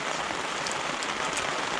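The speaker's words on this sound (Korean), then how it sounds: "한 5시부터 비가 엄청 오기 시작해요" Heavy rain drums steadily on a Hilleberg solo tent during a downpour on a mountain backpacking trip, a dense continuous hiss of close drops with no voices.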